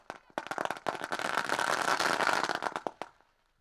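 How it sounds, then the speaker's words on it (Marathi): Firecrackers bursting to welcome guests at a semi-final tournament match: a rapid string of sharp cracks and pops that thickens into dense crackling, then thins out to a few last snaps before quiet. "फटाक्यांच्या आतिषबाजीमध्ये"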